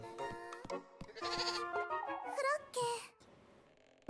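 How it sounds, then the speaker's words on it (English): Goat bleating several times in wavering, quavering cries, loud and close, with a person speaking in between. "I hear the goat."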